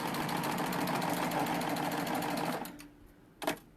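A serger sewing machine hums at a steady, fast, close whir while stitching through thick fabric with a sharp Microtex needle, then stops abruptly, followed by a short clatter.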